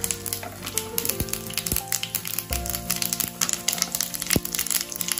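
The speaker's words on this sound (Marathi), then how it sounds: "राई घालते 1/2 चमचा" Mustard seeds crackle and pop in about three tablespoons of hot oil in a pan for a Marathi French beans and potato dish, with quick, sharp snaps scattered over a steady sizzle, close and fairly loud.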